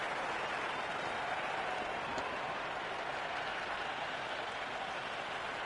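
Cricket crowd buzzing in the stands at a T20 match, a steady, dense wash of distant cheering and clapping that holds level throughout without a break.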